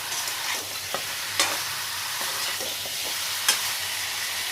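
Mutton is stirred dry in a frying pan without gravy, giving a steady close sizzle broken by a few scraping stirs, with no talk.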